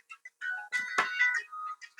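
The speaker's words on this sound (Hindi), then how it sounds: "वकील साहब का फोन है भाई।" A phone ringtone plays as a bright electronic melody of short tonal notes with brief gaps, fairly clear and close.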